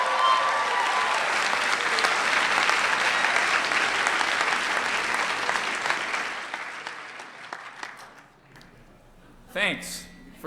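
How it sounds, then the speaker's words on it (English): A lecture audience applauds steadily for about eight seconds, a dense clatter of many hands that fades out, followed by a brief voice. "Thanks for your participation as well as your applause"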